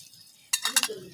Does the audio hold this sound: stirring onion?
yes